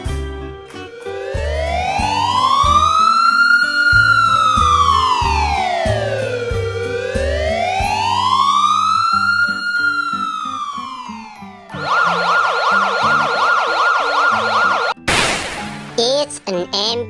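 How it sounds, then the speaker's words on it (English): A loud ambulance siren wails, sweeping slowly up and down, then switches to a rapid yelp before cutting off with a few short bursts. "It's an ambulance."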